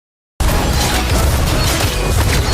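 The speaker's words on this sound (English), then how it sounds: "Team destroyed a turret." A loud, dense rumbling crash from a tower being destroyed in the video game Dota 2 begins abruptly after a short silence and holds a sustained explosive roar with layered debris clatter, no talking.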